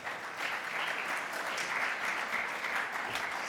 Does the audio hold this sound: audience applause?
yes